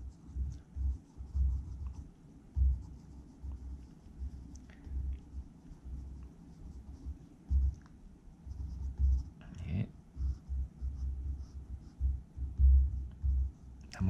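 Pencil quickly sketching a tree in an architectural sketching lesson, soft repeated scratchy strokes in a low, rhythmic pattern at close range, no voice.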